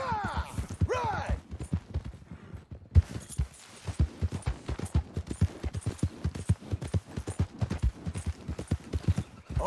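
Horses gallop in Red Dead Redemption 2, a steady run of close, loud hoofbeats thudding without a break across the whole stretch, with a brief neigh near the start.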